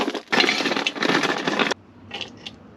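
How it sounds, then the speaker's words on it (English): Ice cubes cracked and broken loose from a collapsible silicone ice tray with pull-apart straps, heard as a dense burst of crackling, snapping and clinking for over a second, close and loud, followed by a few lighter clinks. "once you are ready to use your ice, you kind of break it up, pull these straps apart"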